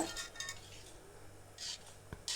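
A spoon stirs a powdered herbal hair-oil mixture in a metal pot, giving quiet, scattered scrapes and a few sharp clinks against the pot in an otherwise hushed room.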